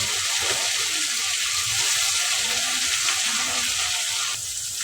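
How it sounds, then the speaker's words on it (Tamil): Fish frying in hot oil in a pan for a curry, a steady close hiss and sizzle that carries evenly throughout and dips slightly near the end. "மீன் நல்லா வறுத்து ரெடி ஆகிடுச்சு எடுத்துக்கலாம்"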